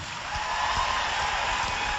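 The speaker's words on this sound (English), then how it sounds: "Give Stephanie and Dennis a big round of applause." An audience applauds at the close of a live 2008 radio debate, a steady, dense wash of clapping that holds evenly from start to finish.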